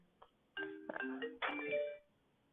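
A phone ringing: a short melodic ringtone burst of chiming tones lasting about a second and a half, fairly faint, with no talk over it.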